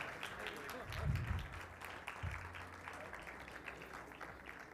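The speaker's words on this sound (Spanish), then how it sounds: "Un aplauso para ella, por favor." Audience applause greeting a guest speaker at a public talk, moderate and continuous at a distance, with a voice speaking over it.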